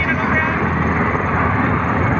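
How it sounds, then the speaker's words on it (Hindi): An aircraft drone rumbles continuously overhead, steady and fairly loud, while a voice speaks over it. A helicopter and an airplane are both in the sky at the same time. "हेलीकॉप्टर भी आ रहा है ऊपर से,"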